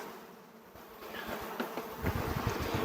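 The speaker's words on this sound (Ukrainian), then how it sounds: "Ну, по бджолі то трошки є." Honeybees swarm over an opened hive during the main honey flow, frames of brood lifted out; a dense, steady buzz swells gradually louder, close by, with a few soft knocks of handling.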